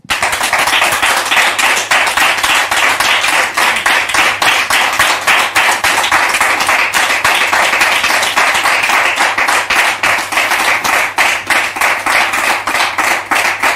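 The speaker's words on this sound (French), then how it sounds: "Merci de recevoir la prophétesse sous vos applaudissements" A studio audience at a French-language religious talk show gives loud, rhythmic applause, rapid, closely miked claps repeating steadily throughout.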